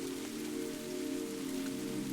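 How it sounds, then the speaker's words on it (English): Soft rain falls in a steady, even patter among olive trees, a continuous gentle wash with no breaks or other sounds. "You're enveloped by the soft sound of the rain."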